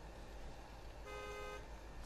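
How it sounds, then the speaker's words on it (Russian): A Tatra truck horn gives one short, steady honk partway through, faint over a low engine rumble, lasting about half a second. "Сигнал, ну, гудок обычный"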